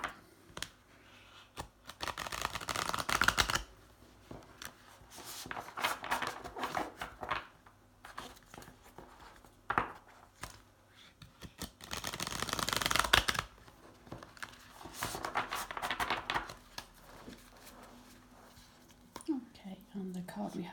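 Tarot cards shuffled and pulled from the deck in close, crisp riffling bursts separated by quieter stretches, with soft speech drifting in between.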